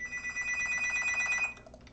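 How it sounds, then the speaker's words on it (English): A telephone bell rings in a rapid, continuous trill for about a second and a half, then stops, leaving faint room noise. "Oh, my phone's ringing."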